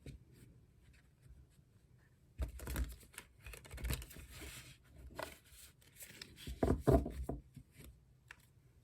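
A deck of tarot cards is shuffled by hand in a quiet room, several soft papery riffles and bursts of rustling flicks that grow louder toward the end, with no voices.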